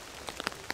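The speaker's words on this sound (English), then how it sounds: "the rain is just non-stop, and it's just perfect, absolutely perfect." A few separate raindrops tapping in an autumn woodland, four or five crisp ticks over a soft, quiet background.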